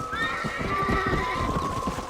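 A horse in the video game Red Dead Redemption whinnies loudly in a long, wavering neigh, with hoofbeats clip-clopping underneath.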